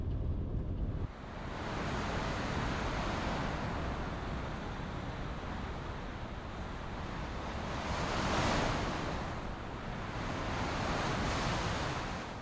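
Strong wind roars at a remote, lonely seaside spot, a loud continuous rush with gusts swelling and fading over crashing surf, no voices.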